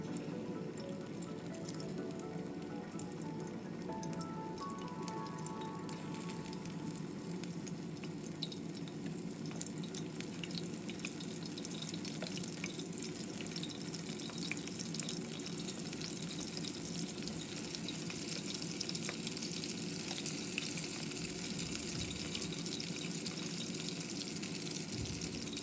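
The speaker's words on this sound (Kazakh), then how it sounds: "Қызып тұрған майға балықтарды салып қуырамыз." Fish sizzles steadily in hot oil in a pan over medium heat, a continuous hissing crackle holding at an even level throughout with no voices.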